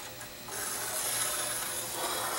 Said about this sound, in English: draw a line out with my pencil